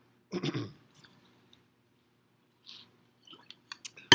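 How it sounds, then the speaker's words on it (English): A single close throat clearing during a lecture, rough and brief, followed by quiet pauses and a few soft clicks and mouth noises. "I'm having to clear my throat so much today."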